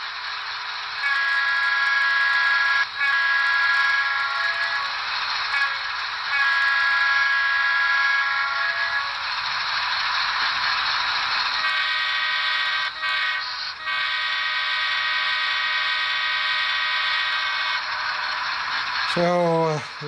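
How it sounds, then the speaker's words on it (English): An N scale ES44AC model locomotive's horn from a Paragon 4 sound decoder sounds in long, loud sustained blasts with short breaks, ending in a brief clank. "There's the horn."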